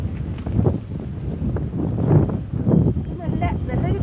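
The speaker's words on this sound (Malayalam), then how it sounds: "നല്ല കാറ്റുണ്ട് ഇവിടെ." Strong wind sweeps across a wide tea plantation at Pattumala near Thekkady, rumbling and buffeting loudly against the microphone in uneven gusts, with muffled talk underneath.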